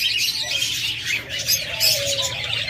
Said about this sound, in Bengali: দেখুন এখানে এক জোড়া লাভবার্ড রয়েছে